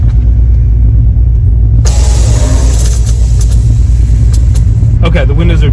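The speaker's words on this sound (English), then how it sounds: "I want to show you how loud it is to air this freaking thing out." Steady engine rumble inside a Corvette with air suspension and windows down, then a sudden loud hissing whoosh of air releasing that continues for several seconds before tapering off.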